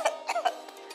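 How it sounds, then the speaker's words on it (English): A teacher demonstrating a cough in an English lesson: a quick burst of three or four short, close coughs lasting about a second, with no other talk. "A cough is like this."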